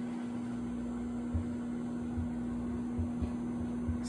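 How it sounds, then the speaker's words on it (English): An oven runs while ice cream warms inside, giving a steady low electrical hum with a constant tonal drone and a few faint soft clicks, with no voices. "put this ice cream in oven for exactly"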